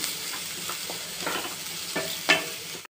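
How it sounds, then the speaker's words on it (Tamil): Onion being sautéed and stirred in a pan for chana masala, a steady close sizzle broken by scraping stirs of the spoon, with one louder clatter near the end and no talking. "அடுத்தது வெங்காயம் சேர்த்துக்கலாம் நல்லா வதக்கி விட்டுக்கலாம்"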